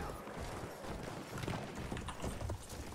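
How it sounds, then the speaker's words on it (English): A horse gallops in the Battlefield 1 video game, its hooves pounding in a steady rapid clip-clop that stays close and fairly loud, with game battle noise behind it. "I really love using the horse in Battlefield 1."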